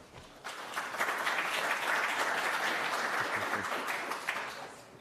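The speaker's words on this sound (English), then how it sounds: "Please give a good round of applause for Blogway." Conference audience applauding a speaker at a blockchain developer event, a broad, even burst of clapping that swells within the first second, holds steady and thins out near the end.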